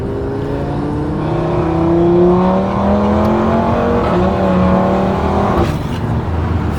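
A tuned Audi RS3 engine of about 510 horsepower revs steadily and loudly, its pitch climbing and dipping as the throttle rises, with no talking over it.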